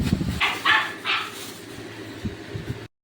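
A dog gives a few sharp, close barks in quick succession near the start, then goes quiet. A low hum runs underneath until the sound cuts off abruptly.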